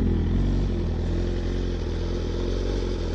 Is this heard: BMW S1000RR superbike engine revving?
yes